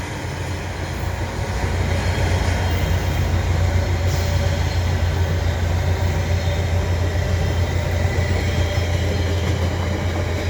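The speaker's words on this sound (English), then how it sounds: "Here comes a Via train" A VIA Rail LRC train with extra Budd coaches rolls past at Dorval beside a waiting CP freight, a steady loud rumble of wheels and engine holding throughout.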